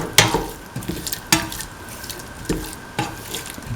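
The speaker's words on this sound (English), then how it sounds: "Mix in the salt." A spoon stirs salt into a cottage cheese and coconut milk stew in a pot, making several separate scraping and clinking strokes at an irregular pace over a faint background sizzle.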